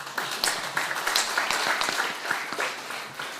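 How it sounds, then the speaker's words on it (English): A crowd claps steadily for a few seconds, a moderate ripple of applause that holds even and then begins to thin toward the end. "So, can we have a warm welcome like Punjabis to Dr. Vaidya?"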